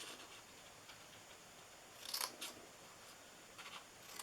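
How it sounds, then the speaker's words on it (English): Scissors cutting paper for a small DIY treat box, a few faint close snips, quiet and isolated with no talk. "And then cut that top off there."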